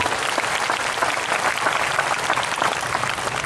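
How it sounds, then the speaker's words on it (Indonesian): Steady, dense applause from a congregation at a Christian revival service in Sibolga, a continuous wash of many hands clapping evenly for the full stretch with no talk over it. "Mana tepuk tangannya bagi firman Tuhan?"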